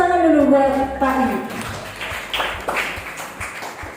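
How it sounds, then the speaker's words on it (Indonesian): Audience applause for a guest at an Indonesian public speaking talk, a broadband patter of many hands that swells after a brief stretch of a voice and continues steadily to the end. "kita tepuk tangan dulu buat Pak I"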